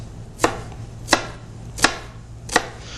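Knife chopping onions on a cutting board for tomato basil soup: four sharp, evenly spaced chops about 0.7 seconds apart, close and clear over a low steady hum, with no talking.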